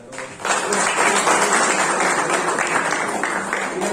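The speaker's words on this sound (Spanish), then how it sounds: "un aplauso para todos." Sustained, dense applause from a gathering at the close of a press conference, starting abruptly and holding at an even, loud level throughout.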